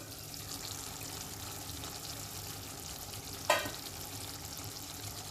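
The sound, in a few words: prawns cooking in stock, being stirred in a pan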